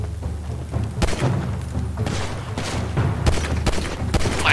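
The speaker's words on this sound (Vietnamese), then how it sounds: "Ê, nó bắn mình." Repeated gunfire in GTA 5 during a detective-themed mod mission about a presidential assassination, with dense, overlapping shots and thuds coming in quick bursts, loud and close throughout, with no talking.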